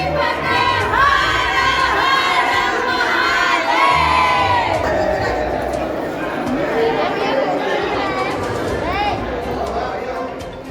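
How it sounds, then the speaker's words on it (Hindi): A large crowd of devotees at a Varanasi Shiva temple on Mahashivratri raises loud, overlapping chants of Har Har Mahadev, shouting and cheering in waves that fill the space continuously. "शिवरात्रि के पर्व पर हर हर महादेव के उद्घोष से मंदिर परिसर गुंजायमान हो रहा था।"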